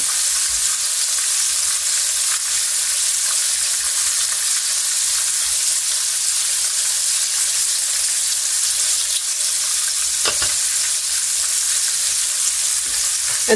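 Already-cooked shrimp coated in flour seasoned with seasoned salt, pepper and onion powder fry in a pan with a steady, loud, close sizzle that stays even throughout, and no one talks over it.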